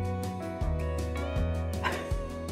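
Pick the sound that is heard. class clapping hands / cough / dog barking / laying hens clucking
dog barking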